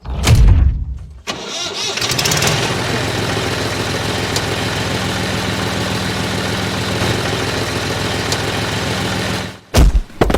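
A tractor engine cranks briefly, then catches and runs at a loud, steady rumbling idle for several seconds before cutting out abruptly, with a brief restart at the very end.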